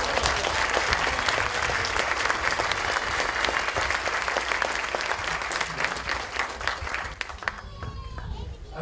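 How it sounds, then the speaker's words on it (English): A big round of applause for Girl Scouts at the opening of a Sunnyvale State of the City event in 2016: dense, continuous clapping from a large indoor crowd, steady throughout and thinning slightly near the end. "Let's give a big round of applause for the Girl Scouts."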